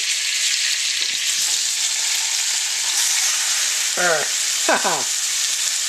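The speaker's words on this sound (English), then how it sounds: "I'm getting the other side seared" A chuck roast sears in a hot pan with bacon, giving a steady, close broadband sizzle throughout, with two brief squeaky sweeping sounds near the end.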